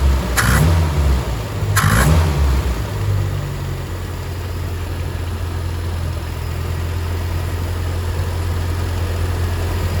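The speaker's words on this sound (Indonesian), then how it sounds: "Nah, ini setelah kita gas-gas kejut, putaran mesin tambah enak." A carburetted engine is blipped twice in quick, sharp revs to clear the carburetor, then settles into a steady, even idle rumble that continues close by.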